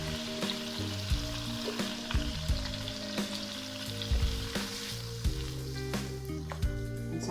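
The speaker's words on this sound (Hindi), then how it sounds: "अब इसी ऑयल में ये मैंने जो हमने ग्राइंड की थी सब चीज़ें वो ऐड कर दूँगी इसमें।" Ground spice paste frying in hot oil left from browning chicken for butter chicken, a continuous crackling sizzle with clanks of a spoon stirring the pan, close and steady throughout.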